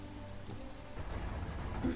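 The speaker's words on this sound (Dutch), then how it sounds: "Het regent wel erg hier in deze stad." Rain falls in a city within a LEGO Lord of the Rings video game, a soft steady patter with a low rumble that builds slightly toward the end, with no voices.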